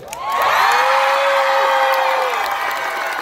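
A large crowd at an outdoor Pride rally roars with sustained screaming, cheering and whooping, loud and continuous, with a high held shout riding over the dense wall of voices.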